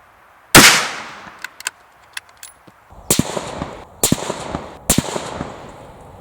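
A Savage 110 KLYM ultralight carbon-fibre rifle in 6.5 Creedmoor fires from rest bags, one loud, sharp, close report followed by smaller clicks and several lighter knocks and impacts.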